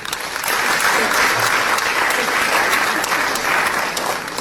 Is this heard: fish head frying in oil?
no